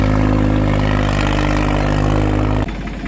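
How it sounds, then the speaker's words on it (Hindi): A new Swaraj 744 XT tractor engine runs after engine work in an open village field, giving a loud, close, steady diesel throb that drops abruptly to a lower, quieter tone near the end. "अब आवाज चेंज होगी ट्रैक्टर की।"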